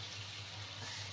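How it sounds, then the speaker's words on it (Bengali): Water poured into a simmering Bengali egg curry (dim kosha), a brief, steady, splashing pour heard up close with nothing else around it. "এটা একটু জল দিয়ে দিচ্ছি"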